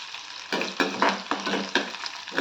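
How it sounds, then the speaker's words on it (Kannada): Garlic with curry leaves hits hot oil, sizzling close and loud in crackling bursts, with the stirring adding uneven surges of frying noise. "ಬೆಳ್ಳುಳ್ಳಿ ಚೆನ್ನಾಗಿ ಫ್ರೈ ಆಗಬಾರ್ದು ಜಸ್ಟ್ ಹಾಗೆ ಬಿಸಿ ಎಣ್ಣೆಲಿ ಹಾಕಿದ್ರೆ ಆಯಿತು"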